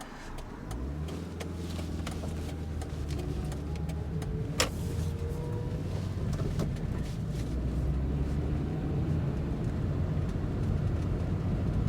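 A Proton Saga Iswara 1.3 petrol engine hums and gradually revs higher, steady and smooth, heard from inside the cabin with faint road noise and occasional clicks.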